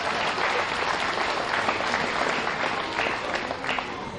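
Crowd at a county fair swine show applauding a blue-ribbon winner in an arena: a continuous wash of many hands clapping, steady and moderately loud from start to finish.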